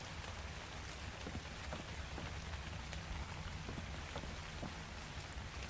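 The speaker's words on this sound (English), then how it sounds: "Why am I getting rained on in my base?" Rain falling on a thatch base in the Ark video game, a steady, dense patter of drops with scattered sharper taps, continuous and even throughout with no talking.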